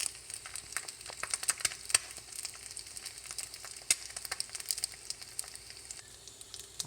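Bacon and an egg cooked over medium frying in a pan, giving a steady close sizzle with scattered pops and crackles and no talk.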